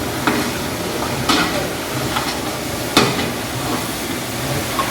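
Green chillies fry over a high flame with a steady broadband sizzle, broken by a few sharp scrapes of a spatula stirring them around the pan; no talking.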